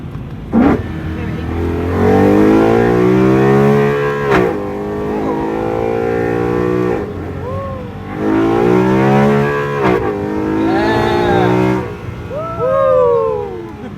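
A BMW E93 M3 engine with aftermarket valved mufflers and test pipes, valves closed, revs up hard through several gears, the exhaust note rising and dropping with each shift, loud and close, with a voice speaking over it.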